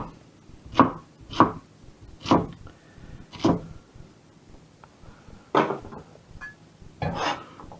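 A knife chops courgettes into fairly chunky pieces on a board, about seven sharp separate cuts at uneven intervals, close and clear over a quiet room.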